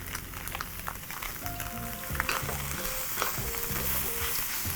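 Noodles stir-frying with beef, shredded cabbage and carrot in a hot pan or wok: a dense continuous sizzle with steady stirring and tossing, close and fairly loud, with no talking.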